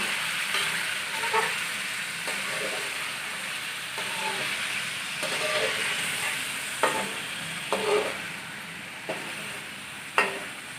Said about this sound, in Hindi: चिकन को हल्का सा फ्राई कर लेंगे।